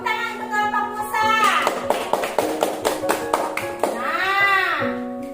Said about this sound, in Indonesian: Tepuk tangan untuk kelompok Musa.